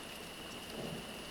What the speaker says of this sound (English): Rain began to fall, making the brown dirt soft and loamy.